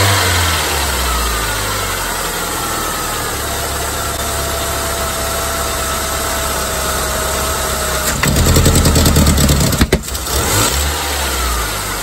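A 1999 Saturn SC1 SOHC engine idles loudly and steadily, then gets a short burst of throttle near the end, rising into a rev before settling back to idle, heard up close with no talk.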